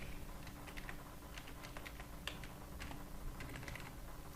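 Fingers typing on a computer keyboard during an HTML coding lesson, a steady run of light close clicks and taps over a faint background hum, with no talking.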